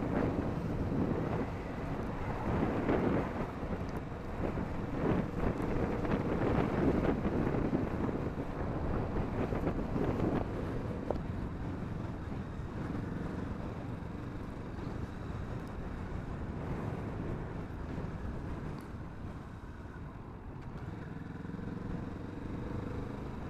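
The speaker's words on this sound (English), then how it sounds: "The bike really does have a nice grunt to it. Just cruising along here in third gear, 25 miles an hour." A motorcycle cruises in third gear at about 25 mph, its steady engine drone blended with heavy wind rush across the microphone, continuous throughout with no talking.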